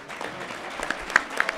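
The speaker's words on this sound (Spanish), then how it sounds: "Brindémosle otro aplauso, por favor." Brief, moderate applause from an audience at a book presentation in a history museum, a scattered patter of hands with a few sharper claps near the end.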